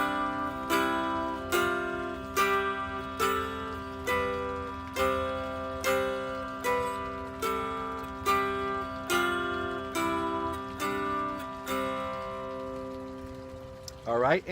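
A mountain dulcimer in CGG tuning plays a slow ascending scale, each note plucked cleanly and ringing over a steady drone, with a brief strum at the end.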